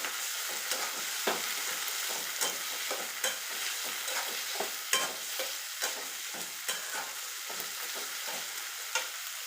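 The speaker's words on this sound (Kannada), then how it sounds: "ಇವಾಗ ನಾನು ಏನು ಹಾಕ್ತೀನಿ, ಟೊಮೆಟೊ ಹಣ್ಣು ಹಾಕ್ತೀನಿ." Tomatoes sizzle and fry in a hot pan while a utensil scrapes and stirs them in repeated, fairly regular strokes, with the crackle holding steady close by and no voices.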